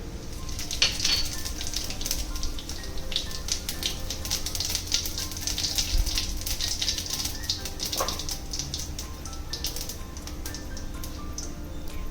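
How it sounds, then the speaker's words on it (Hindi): Steady crackling sizzle of cumin seeds frying in hot oil, continuous and close, with scattered sharper pops. "जैसे ही तेल गरम हो जाए उसके अंदर जीरा डालकर भूनें"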